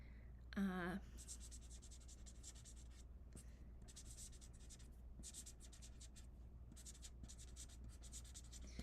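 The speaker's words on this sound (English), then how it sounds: "you can sign your card with them. So just like this." A Stampin' Write marker scratches softly across a card in a quiet paper-crafting setting, faint and steady after a brief louder sound at the start.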